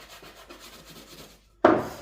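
A suede cleaning stone scrubs an UGG boot, giving soft rasping strokes followed by a sudden louder, sharper scrape near the end, close by with no voices.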